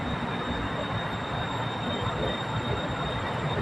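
A BTS Silom Line skytrain, an EMU, moving at the third platform of Saphan Taksin station in Bangkok: a loud, steady rumble of the train with a constant high electrical whine, no pauses throughout.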